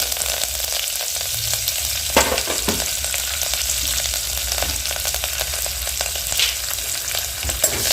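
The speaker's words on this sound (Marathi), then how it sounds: "काजूला सोनेरी कलर इकडे तळून घेऊया" Cashews fry in hot oil in a pan until golden, giving a steady, close sizzle with occasional crackles and stirring clicks throughout.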